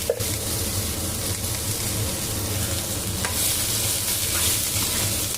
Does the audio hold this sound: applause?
no